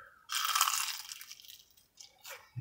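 A crisp egg roll is bitten into at close range, giving a loud crackling crunch that fades into a few smaller crunches as it is chewed.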